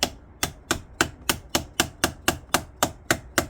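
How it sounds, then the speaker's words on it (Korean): A plastic urethane hammer taps lightly on a battery terminal during car audio work on a GV80, striking about a dozen evenly spaced, crisp, close knocks with no talk. "이제 플라스틱 우레탄 망치죠."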